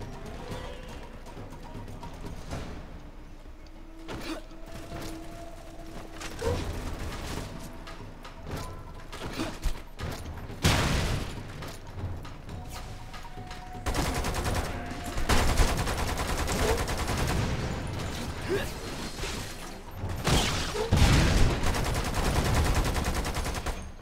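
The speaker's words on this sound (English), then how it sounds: "No, I was shooting at the thing next to you." Gunfire from shooting in Lost Planet 2 cracks out in irregular bursts and rapid volleys alongside mechanical clanks and whirring, fairly loud and continuous throughout.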